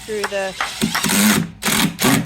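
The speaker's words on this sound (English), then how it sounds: "screw the plywood to our little supports there" A power driver runs screws through plywood into small wooden supports while building a quail and rabbit cage, several short loud whirring bursts with brief pauses between, close by.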